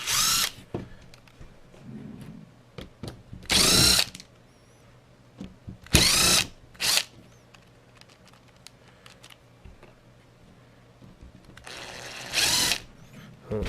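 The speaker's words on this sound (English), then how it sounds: "I'm going to use my drill to get all these screws out" Cordless drill backing screws out of a stock Axial Yeti RC wheel rim: four loud, short whirring bursts at irregular intervals, separated by quiet handling clicks and rattles.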